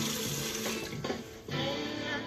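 Tap water running and pouring into a cooking pan for frozen spinach, a steady close hiss and splash that breaks briefly midway before resuming.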